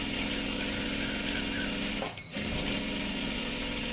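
A sewing machine stitches a salwar in a steady, continuous run, with a brief pause near the middle before the stitching resumes at the same pace.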